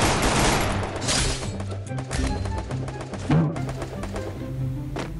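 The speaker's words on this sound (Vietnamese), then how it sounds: "Các bạn dùng cái khẩu súng lục G18 này nè," A G18 pistol in a mobile battle royale shooter fires in rapid automatic bursts, sharp close cracks tightly packed across the clip with short pauses between volleys.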